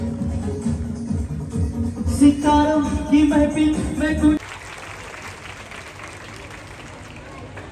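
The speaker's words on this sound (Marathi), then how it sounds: "एकदा जोरदार टाळ्या वाजवतो सर्वांच्या." Loud applause for an honoree at a Marathi Home Minister Paithani game show event, heard under music and a voice for about four seconds, then dropping to a faint, steady crowd murmur.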